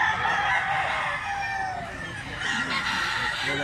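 A young gamecock stag crows once, a long drawn-out call close by that rises and then trails off, with faint farmyard sounds behind it.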